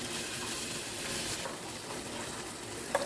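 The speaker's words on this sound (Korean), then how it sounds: "불을 약하게 해서 어묵을 볶아줍니다." Fish cakes stir-fry over low heat in a pan with chili powder and honey, making a dense, even sizzle throughout with one brief scrape of a utensil near the end and no speech.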